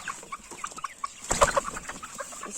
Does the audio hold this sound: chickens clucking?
yes